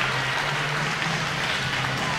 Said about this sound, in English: how about a round of applause for all of our 1500 freestyle swimmers this evening?